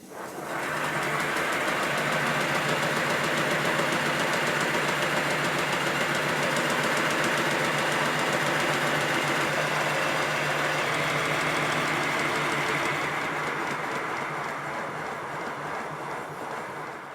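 A Simplex steam locomotive engine runs steadily after its regulator is opened, giving a continuous, loud mechanical chuffing and clatter close by that holds for the whole stretch before easing slightly at the end.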